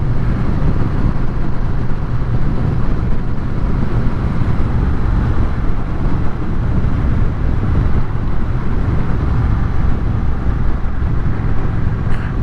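A Honda Rebel 1100 DCT motorcycle riding on a road, its engine a steady low rumble heard from onboard beneath heavy, continuous wind rush.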